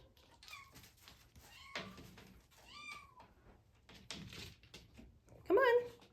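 A cat meows several times in short, separate calls, ending in a louder, wavering meow, with a person talking softly between them in a quiet room.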